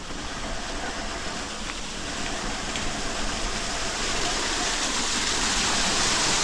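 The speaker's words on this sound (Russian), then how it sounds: "Водопадик течет." A small waterfall flowing near the lower gate of the Vorontsov Palace in Crimea, giving a steady, broadband rushing hiss of water that stays even and continuous throughout.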